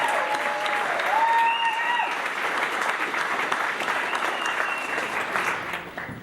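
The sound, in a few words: wedding guests applauding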